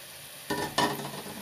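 Fried sweet potato pieces drop into hot oil and spiced masala, setting off a sudden close sizzle with a second louder burst as more go in, then a steady crackle.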